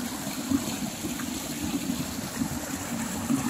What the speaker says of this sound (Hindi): अब हम चलते हैं ग्लेशियर के पानी का जो चश्मा है जो इस फार्म में से गुजरता है